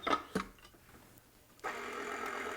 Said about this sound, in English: So let me bring up my mixer.